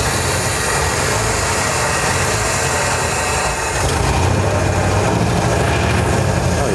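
A 1957 Chevy Bel Air engine idles steadily and loudly up close, a continuous low rumble that holds even throughout, with no voices.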